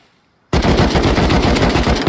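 Sudden loud automatic weapon fire in the survival game Rust bursts in after a brief near-silence and keeps hammering continuously to the end, close and dense, without speech.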